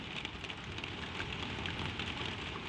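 Soft rain falls steadily on a shed roof, an even, dense hiss with a fine patter, unbroken and constant throughout.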